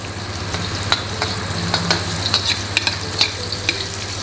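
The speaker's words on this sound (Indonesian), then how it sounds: "Masukkan lengkuas dulu." Galangal sizzles and crackles in hot used oil left over from frying salted fish, a steady close frying hiss with sharp pops and stirring scrapes throughout.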